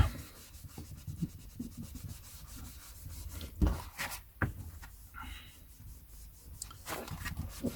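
A vintage record being cleaned and polished by hand, close soft rubbing and wiping strokes in an irregular rhythm, with occasional handling knocks and clicks and no talking.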